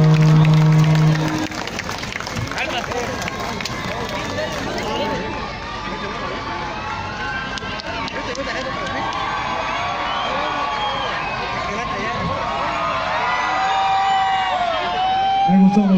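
Audience at a merengue contest in Champotón cheering and applauding for the Dominican Republic, a loud sustained roar of claps, whoops and shrill children's shouts that carries on throughout, with voices yelling over it.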